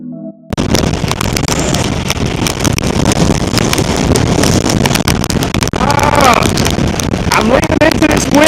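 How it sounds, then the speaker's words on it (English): Strong wind of about 40 miles an hour roars and buffets right against the microphone, loud and constant, after a brief quiet moment at the start. "I'm leaning into this wind. This is every bit of 40 miles an hour."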